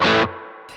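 Electric guitar played through a Boss Katana amp with spring reverb set to its darkest colour: a loud distorted chord that cuts off abruptly, leaving a dull, muffled reverb tail ringing on alone.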